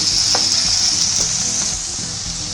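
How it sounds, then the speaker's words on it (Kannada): Capsicum being stirred into vegetable fried rice sizzling on a medium flame, a steady loud fry with a few soft scraping strokes of the spoon, alone without voices. "ಈಗ ಇದಕ್ಕೆ ಕ್ಯಾಪ್ಸಿಕಮ್ ಹಾಕೋತೀನಿ. ಇದನ್ನು ಸ್ವಲ್ಪ ಚೆನ್ನಾಗಿ ತಿರುಗಿಸ್ಕೊಡ್ಬೇಕು."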